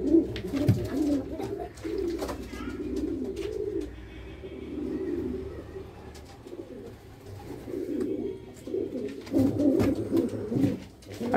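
Pigeons in a loft coo repeatedly in low, throaty bursts, fairly close and steady across the whole stretch, with louder calls near the start and end.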